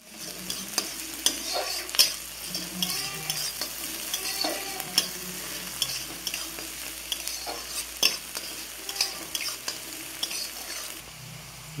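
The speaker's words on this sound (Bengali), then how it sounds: "পেঁয়াজটা হালকা ভাজা হয়ে গেছে, এবার দিয়ে দেবো কাঁচা লঙ্কা কুচি" Chopped green chili sizzles with lightly fried onions in a pan for egg chop filling, a constant crackle under frequent stirring scrapes and sharp spatula knocks against the pan.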